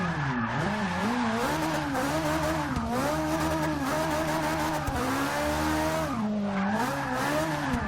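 A slammed Ferrari 458 Italia drift build in Forza 6, sliding sideways with a continuous tire squeal over a high, wavering engine rev that rises and dips throughout, loud and close.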